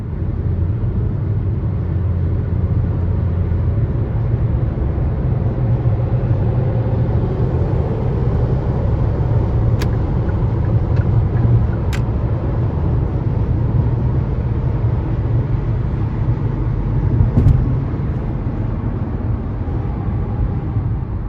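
A car drives along a road and overtakes a classic car, heard as a continuous low engine and tire rumble from inside the vehicle that stays steady throughout, with no talking.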